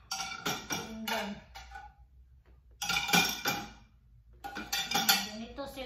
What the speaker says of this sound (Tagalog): Ganito sila dito maghugas ng pinggan.